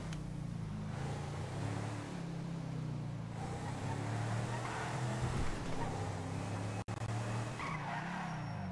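A car in GTA 5 accelerates with a steady engine drone and tire noise, moderately loud and continuous, with a brief sharp dropout near the end and no speech.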